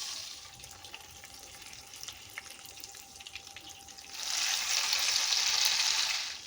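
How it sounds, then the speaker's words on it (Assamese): Chicken pieces frying in a pan for a curd-marinated dahi chicken, a steady low sizzle that swells much louder and brighter for the last couple of seconds, with no talking. "আকৌ ইয়াৰ পিছত নেক্সট চিকেনখিনি ঠিক একেদৰে ফ্ৰাই কৰি ল'ম।"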